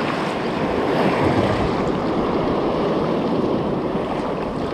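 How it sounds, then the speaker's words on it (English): Heavy surf from a rogue ocean wave pounds the shore in a continuous, loud wash of churning water and wind noise, close to the microphone, with no voices. "Dadgum rogue wave got me."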